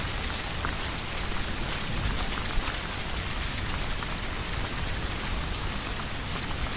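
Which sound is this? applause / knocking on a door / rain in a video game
rain in a video game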